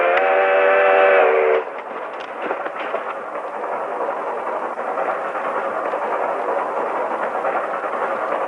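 A train approaches in a 1955 film scene, opening with a loud, steady whistle blast that cuts off after about a second and a half, followed by a continuous rumbling clatter of rolling cars with no voices.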